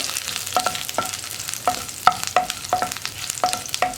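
Curry leaves sizzle and crackle in hot coconut oil for a Kerala egg curry, with a steady frying hiss broken by sharp pops and clicks of stirring.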